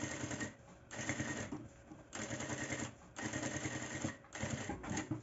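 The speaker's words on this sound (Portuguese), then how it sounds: "vou fazer esse pesponto bem na pontinha, tá?" A sewing machine topstitching fabric along the very edge runs in close, rapid bursts of stitching, pausing briefly between runs of roughly a second each, with no talk.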